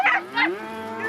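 Cattle on a Wyoming cattle drive in 2006 let out a drawn-out, close moo that rises and swells, then trails off into a lowing tail, alone without talk.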